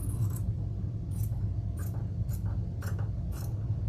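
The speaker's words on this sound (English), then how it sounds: "we're gonna cut a little piece of this" Scissors snip a small piece of hair bow ribbon material in a series of about six short, crisp cuts spaced evenly over a steady low background hum, close and clear with no talking.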